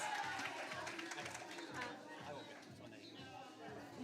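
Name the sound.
congregation clapping for Albert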